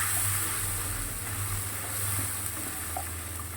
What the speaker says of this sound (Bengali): দেখো, টমেটোটা খুব ভালো করে ভাজিয়ে নিয়েছি।